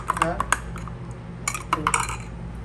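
A spoon clinks against dishes in a few light, scattered taps, with a steady low hum in the background.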